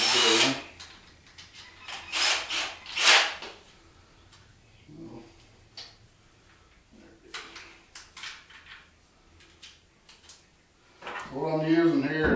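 A power drill drives 2-inch screws into a board while building a wrapping table in a meat shop, giving several short whirring bursts near the start and more toward the end, with someone talking in between.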